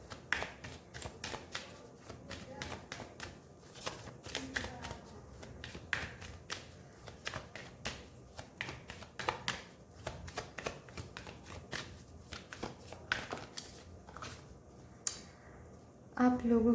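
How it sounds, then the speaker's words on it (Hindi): A tarot deck is shuffled by hand before a card is drawn, a dense, steady stream of quick papery riffles and taps that runs close and continuous for the whole stretch. "मैं पहले आप लोगों के लिए यहाँ से भी एक कार्ड निकालूंगी"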